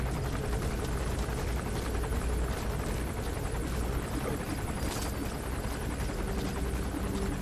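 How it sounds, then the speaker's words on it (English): Helicopter in Metal Gear Solid V: The Phantom Pain, a steady, dense rotor and engine roar holding at an even level for the whole stretch, with no voices over it. "If I can get this helicopter to go away."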